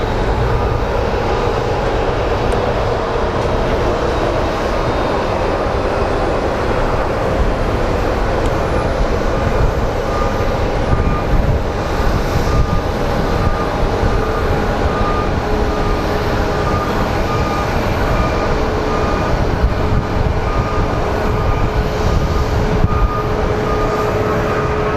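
Jet aircraft on the runway at Phoenix Sky Harbor airport, a loud continuous roar and whine holding steady throughout, with faint background hum and no talking.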